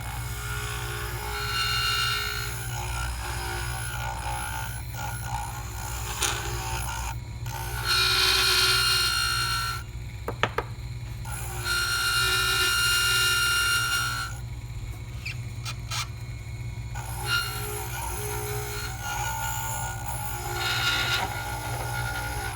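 A dental lab grinder fitted with a large egg burr trims the lingual portion of a lower dental cast, giving a continuous gritty grinding hiss that swells and eases in bursts, with no voices.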